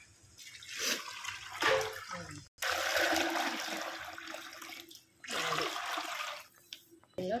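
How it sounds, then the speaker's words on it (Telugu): Water is poured from a measuring tin into rice in a cooking pot, in three or four splashing, gushing bursts with brief pauses between, close and clear, with a little talk in the gaps. "ఈ డబ్బాకి 2 డబ్బాలు వాటర్ పోస్తాను అన్నమాట"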